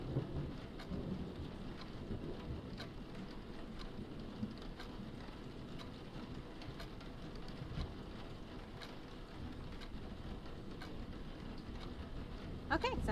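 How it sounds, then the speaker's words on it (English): Steady rain and rumbling thunder in a stormy scene from the West of Loathing game, a continuous wash of rainfall with scattered crackling strikes throughout, loud and even, with no voice over it. "Ooh, thunder."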